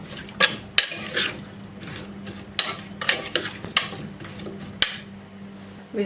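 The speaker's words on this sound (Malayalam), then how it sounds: "ഇതൊന്ന് നല്ല ഇളക്കി യോജിപ്പിച്ച് കൊടുക്കാം." Metal utensil scraping and clinking against a pot of taro root in irregular strokes, close by, with faint background hum and no talking.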